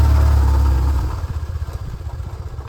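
A BMW R1150GS motorcycle engine runs nearby, with a loud low rumble at first that settles into a rhythmic, pulsing idle chug.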